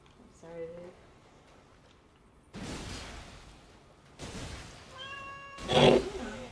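A pet cat meows a few times nearby, short tonal calls in the first second and again near the end, with a person talking between and over them while a computer game plays.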